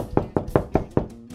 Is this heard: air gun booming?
no